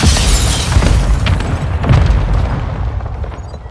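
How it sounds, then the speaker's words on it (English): Heavy booming mortar strike explosions in Call of Duty Modern Warfare II, a loud continuous rumble of overlapping blasts with several stronger impacts rising out of it. "Mortar strike inbound now."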